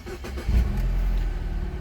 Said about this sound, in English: So I'm going to start the car and shift through the gears.